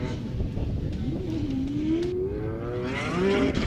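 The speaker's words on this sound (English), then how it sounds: "Federico Sharifo here in this Fiorella Ferrari, and brings it on by" A Ferrari race car on a qualifying run, its engine note climbing steadily in pitch as it approaches and passes, loud and fairly close, with a brief burst of extra roar near the end.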